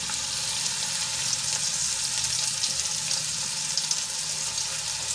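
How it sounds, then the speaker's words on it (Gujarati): Finely chopped onions sauté with cumin and asafoetida in hot oil in a kadai, a steady, even sizzle that holds without pause and no talking. "હવે ડુંગળીને આપણે 1 મિનિટ સુધી તેલમાં સંતળાવા દઈશું"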